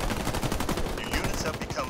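Rapid gunfire from units in the strategy game Halo Wars 2, a dense rattling burst of automatic shots that continues without pause, loud and close.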